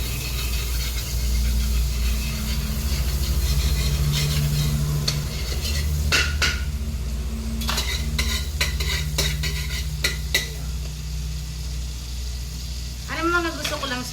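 Hotdogs frying in margarine in a home kitchen pan, a steady close sizzle with scattered clinks and stirring scrapes, while a person talks over it.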